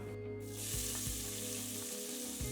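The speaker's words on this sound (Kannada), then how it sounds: "ಈರುಳ್ಳಿ ಸ್ವಲ್ಪ ಫ್ರೈ ಆಗಲಿ." Finely chopped medium-sized onion frying in a pan for a mixed vegetable kootu, giving a steady close sizzle broken by a few soft stirring knocks, with no voices.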